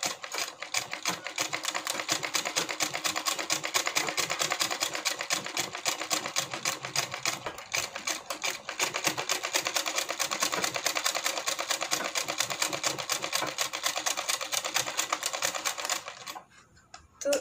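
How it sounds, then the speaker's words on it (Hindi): Sewing machine stitching a blouse collar, running in a fast, continuous, even mechanical clatter close up for most of the stretch before slowing and stopping near the end, with no talk. "इसको ऐसे मोड़ लेंगे और सिलाई को लगा देंगे"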